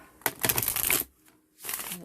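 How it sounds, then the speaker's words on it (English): Tarot cards being shuffled, two bursts of riffling and flapping, the first longer, close and moderately loud with a short pause between them. "I've been shuffling the cards."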